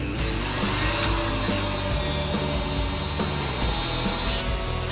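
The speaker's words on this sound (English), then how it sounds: "we'll change the setting and there'll be a whole heap of hot air that we're going to pump onto the charcoal" An electric charcoal starter wand for an outdoor 3-in-1 charcoal smoker, griller and roaster blows hot air onto charcoal with a loud, continuous rushing roar. A few faint knocks and rattles sound beneath it.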